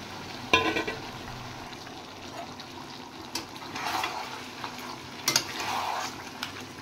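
Mutton fries in a pan with a paste of ginger, garlic, cumin, coriander and chili powder for tehari biriyani. A low, steady sizzle runs throughout, with several sharper scraping bursts as the mixture is stirred.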